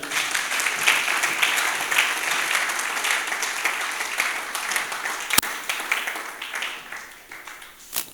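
A church congregation applauding during a sermon, sustained clapping from many hands filling the room, loud and continuous before tapering off near the end.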